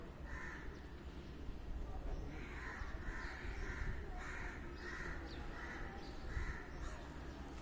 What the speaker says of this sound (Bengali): কা কা করে শুনেন